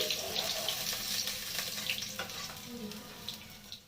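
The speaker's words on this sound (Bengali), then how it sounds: "আমি কিন্তু এখানে কালো জিরে দিয়ে বেগুনটাকে ভাজছি" Eggplant frying with black cumin in hot oil in a pan after fish: a steady close sizzle and crackle continues throughout, with light stirring clatter and no one speaking.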